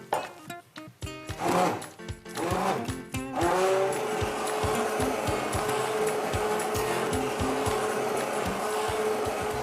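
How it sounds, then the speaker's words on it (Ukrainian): A motorized blender whirs steadily and loudly through vegetable soup with cream after a few seconds of clattering and bumping, its continuous drone running to the end. "далі працюю блендером"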